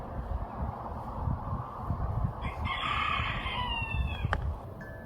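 Chickens cluck and a rooster crows loudly nearby, layered over a busy, rustling farmyard background.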